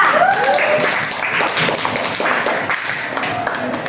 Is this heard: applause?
yes